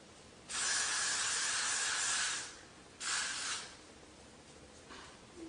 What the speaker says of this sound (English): I then take my freeze spray.